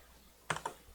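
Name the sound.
pressing Alt A keyboard shortcut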